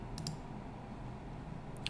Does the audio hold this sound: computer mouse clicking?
yes